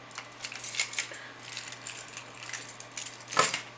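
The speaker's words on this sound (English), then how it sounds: "I got a ton of keys." A large bunch of keys jangles and clinks in the hand, a steady metallic rattle throughout with a sharper jingle near the end, close and fairly loud with no talk.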